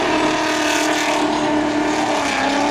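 Drift cars race through a corner at a competition, engines roaring at full throttle with tires squealing in a dense, steady wall of loud noise, no talk.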